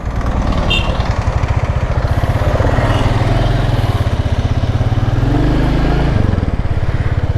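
Royal Enfield Classic motorcycles, a J Series and a UCE with stock exhausts and about 70,000 km of running, idle close by with a loud, even, rapid thump that holds steady throughout.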